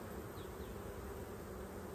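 Honey bees buzz around an open hive in a dense, continuous drone, a close swarm of overlapping wingbeats holding an even, steady level.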